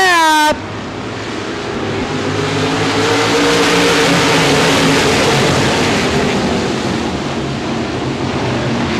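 RaceSaver sprint cars roar into a green flag start at Devils Bowl Speedway, a dense, loud wall of engines building and holding steady after a brief horn-like tone at the start.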